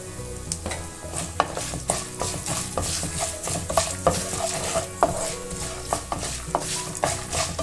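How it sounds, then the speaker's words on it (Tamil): Cashews and chana dal roasting in a pan with a broad steady sizzle, punctuated by repeated scraping stirs of a utensil across the metal every second or so, close and clear with no voices. "முந்திரி பருப்பு, கடலை பருப்பு எல்லாமே நல்லா வறுத்தாச்சு."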